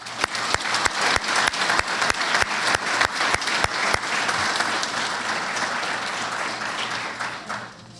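Applause at a police promotions and awards ceremony for officers receiving awards, a room of people clapping steadily with several sharp individual claps standing out early, then a dense sustained round that tapers off at the end.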